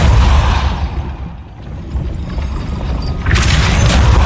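A Depulso spell strikes in Hogwarts Legacy, a loud deep blast and rumble that dips briefly and then surges again with a bright burst near the end.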